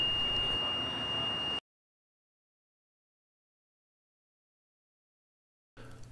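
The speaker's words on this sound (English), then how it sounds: "The portal should alarm as the person walks through." Radiation portal monitor alarm sounding as a person walks through: a steady high electronic tone held for about a second and a half, then cutting off into silence before faint room noise returns.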